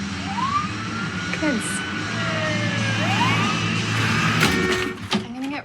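An ambulance's wailing siren rises and falls at a distance, while people talk nearby.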